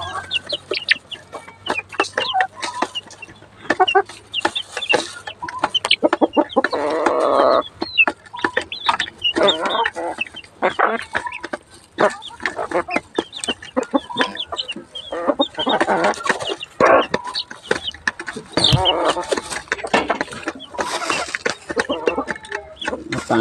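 Desi chickens on a village poultry farm clucking and squawking steadily up close, with irregular bursts of busy, overlapping fowl calls across the whole stretch and a voice speaking now and then.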